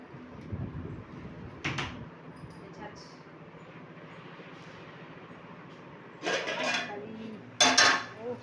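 A cooking vessel is pulled from a kitchen cupboard, with a few short metallic clanks and rattles of pots, separated by quieter stretches, while someone talks nearby.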